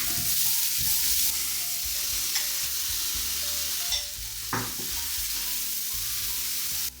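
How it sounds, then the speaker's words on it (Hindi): Onions and green chillies fry in a pan, giving a continuous close sizzle with scraping and clinking stirring strokes throughout and no voices. "प्याज और हरी मिर्च को थोड़ी देर ही फ्राई करना है, ब्राउन नहीं करना है।"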